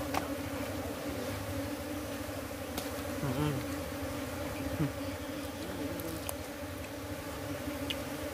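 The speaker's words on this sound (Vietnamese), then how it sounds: "Mọi người xem ong. Quá trời luôn." Dense, continuous buzzing hum of a swarm of honey bees at a one-year-old hive, opened without smoke, close up and steady with faint clicks throughout.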